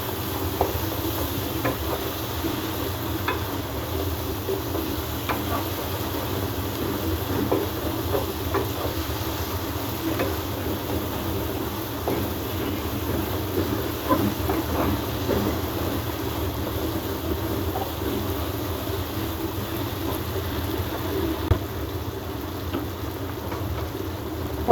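Ground cumin, ginger and garlic fry in a pan, a steady close sizzling hiss holding evenly throughout with faint scrapes and crackles.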